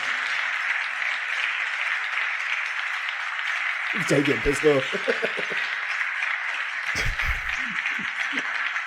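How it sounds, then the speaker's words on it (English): A steady wash of clapping from a crowd of Democrats runs through a played-back political speech recording, and a voice talks briefly over the middle and again near the end. "He's talking about Ukraine and all the Democrats started clapping."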